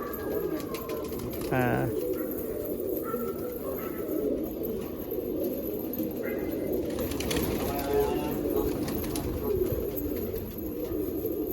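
Madras pigeons cooing in soft repeated throaty phrases close by, with a voice talking over them and occasional rustling.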